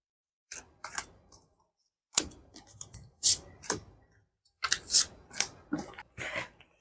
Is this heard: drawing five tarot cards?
yes